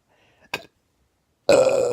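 A person burps twice, first with a short, quieter belch and then, after a pause, with a loud, drawn-out one close up.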